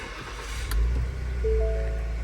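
A 2019 Ford Edge SUV engine runs with a steady low rumble, with a brief click and a rise in engine note partway through as it is switched off and restarted, followed by a faint whine.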